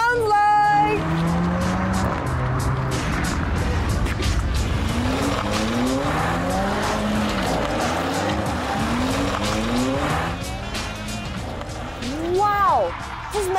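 A Mercedes-Benz car is driven hard, its engine rising and falling through repeated revving gear changes with tire squeal near the end, while people talk and exclaim over it throughout.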